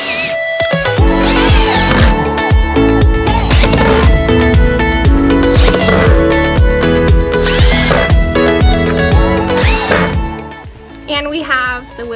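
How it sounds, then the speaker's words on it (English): A jigsaw cuts a small arch in wood for a van wheel well box, loud and close, its whine rising and falling in repeated surges before dropping off near the end. "I do have to jigsaw out a little arch."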